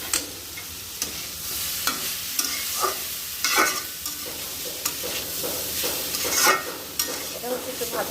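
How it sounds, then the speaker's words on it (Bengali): Whole cardamom, cinnamon and bay leaves sizzle steadily in a pan while a spoon stirs and scrapes them in irregular strokes, close and moderately loud, with no talk. "এটা হচ্ছে একটু ভাজা ভাজা করে পানি দিয়ে দিব।"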